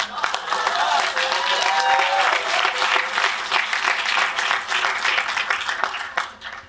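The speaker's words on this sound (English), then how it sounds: "Round of applause for dots." Audience applause at a talk on the demoscene, a dense burst of many hands clapping that holds steady for several seconds before tapering off.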